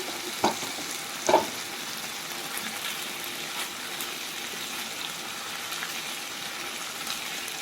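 Liver frying together with colored bell peppers in a pan, a steady close hiss and sizzle with two brief metallic clinks of a utensil early on, with no voices.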